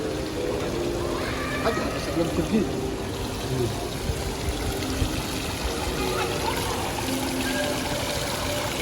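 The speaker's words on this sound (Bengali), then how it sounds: "এখানে একটা কৃত্রিম ঝর্ণা আছে" Steady trickling and splashing water from an artificial indoor fountain in Villaggio Mall, Qatar, runs continuously, with a faint murmur of voices in the background.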